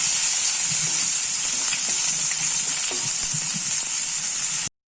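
Onions for a bitter gourd fry sauté in a pan with a loud, steady, close hiss and faint crackles throughout, before cutting off abruptly.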